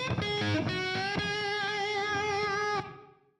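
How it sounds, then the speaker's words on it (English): A single sustained electric guitar note is played through an Octavia octave-up distortion pedal, buzzing and harmonically rich with a doubled upper octave, ringing for nearly three seconds before fading out. "He's using a device known as an Octavia, which is an extreme distortion pedal which pushes the distortion of the note into the sound of an octave higher than normal."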